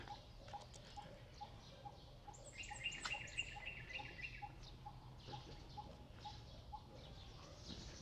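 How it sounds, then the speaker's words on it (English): At a temple in Kampot, Cambodia, a bird calls in a series of repeated hollow notes at a steady pace. The calls sound moderately far over a faint hum, and a thin high trill rises briefly midway. "It has to be a bird."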